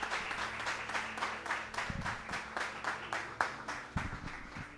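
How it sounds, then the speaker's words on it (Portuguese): A church congregation claps in praise, fairly quiet and somewhat distant, with clustered irregular claps over a low organ-like hum and occasional low thumps. "aplauda ao Senhor"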